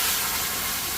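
Syrup mixed with milk hits roasting sheera in a hot pan, producing a dense, steady sizzling hiss throughout, loud and close.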